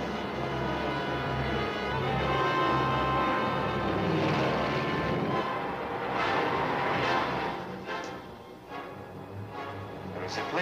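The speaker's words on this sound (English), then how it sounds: "There's a plane coming this way." A propeller airplane drones closer as a radio drama sound effect, a loud sustained engine roar that swells and then eases, near and alone.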